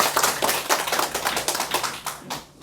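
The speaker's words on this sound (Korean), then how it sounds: "오늘 돌보신 하나님의 말씀을 우리 정병훈 목사님께 뜨거운 박수를 한번 합시다." Audience applause at a church prayer meeting, a dense burst of many hands clapping close by for nearly three seconds, fading slightly at the end.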